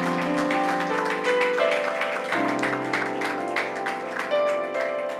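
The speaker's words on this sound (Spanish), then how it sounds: "Démosle un fuerte aplauso a nuestro Dios." A church congregation claps along beneath sustained instrumental music, the rhythmic claps mixing with held chords that dominate the sound.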